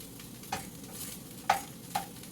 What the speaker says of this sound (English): The potatoes here, whew, they're getting crispy.